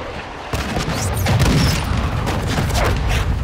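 A mortar strike in Call of Duty Modern Warfare II arrives as a continuous loud rumble of booming blasts that build after a half-second and keep rolling heavily throughout.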